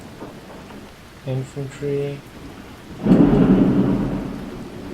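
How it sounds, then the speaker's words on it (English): Rain and a low rolling thunderstorm rumble swell up in the Hearts of Iron 4 strategy game, a steady wash of rainfall following a brief spoken word and a few short musical interface tones. "Oh great, a thunderstorm."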